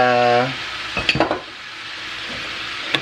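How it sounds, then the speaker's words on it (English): Ground beef and garlic frying in a pan for lasagna, with a soft sizzle and a few clinks and scrapes of a utensil stirring against the pan, following a brief tone at the start. "the garlic that we had, I'm putting it in here with the burger, ground beef"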